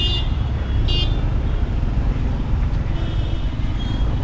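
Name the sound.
traffic jam on the road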